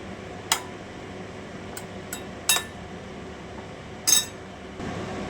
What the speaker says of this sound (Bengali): এবারে আমি চামচ দিয়ে করব।